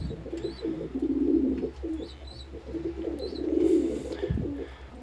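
Young racing pigeons cooing in a loft, several low throaty coo phrases rising and falling, close by, with faint chirps and a brief rustle near the end.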